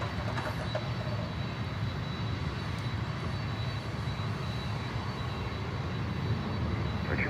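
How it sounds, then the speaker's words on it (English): A Boeing factory freighter jet at Miami airport roars steadily with a broad, constant engine rumble, loud and close throughout with no talk. "This is no conversion. That's a Boeing factory freighter."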